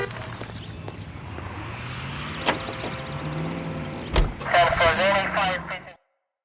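Car driving in the video game LA Noire, a steady engine hum with rising revs and a door or mechanical clunk, while voices talk over it before it cuts to silence.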